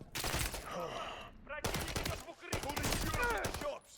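Rapid pistol fire in Call of Duty: Modern Warfare 3, a dense run of sharp shots in quick bursts with short pauses between them, loud and close.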